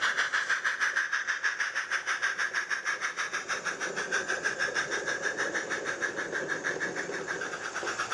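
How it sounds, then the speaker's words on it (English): A model goods train chuffs steadily on its approach to a station, with a rapid, regular rhythmic beat and hiss, holding a fairly even level as it draws near. "The pickup goods on its approach to Beeston Castle Station."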